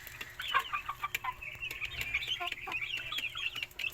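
Chickens and small chicks at an early-morning feeding, with a continuous flurry of close, overlapping clucks and high cheeping peeps that keeps going throughout, and no talking.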